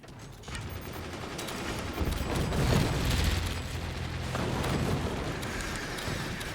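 Mortars fire in a video game as a continuous rumbling barrage of booms and blasts, loud and dense, swelling through the middle and holding to the end, with no talk over it.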